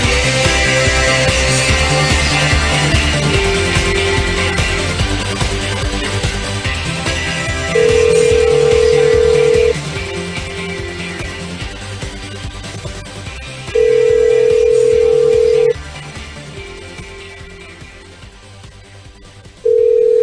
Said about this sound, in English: We're calling Paige Adler.